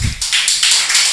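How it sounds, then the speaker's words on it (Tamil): Short burst of rhythmic group clapping from a congregation at a Tamil Bible study gathering, loud and close, with steady pulsing claps and no talk. "கைத்தட்டு கொடுத்துருவோமா?"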